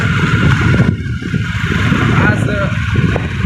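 A motorcycle engine drones continuously while being ridden, loud and close with rough low rumble and wind noise throughout.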